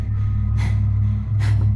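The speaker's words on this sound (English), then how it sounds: "Bro, stop panting." Heavy panting in a video game, two sharp breathy gasps about a second apart over a loud, steady low hum.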